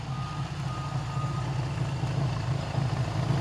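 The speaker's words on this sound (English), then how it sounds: "The beeper for the turn signals works beautifully." On a 1975 Honda CB750F motorcycle, the turn-signal beeper gives a steady, repeating electronic beep over a low running-engine rumble, with no talking.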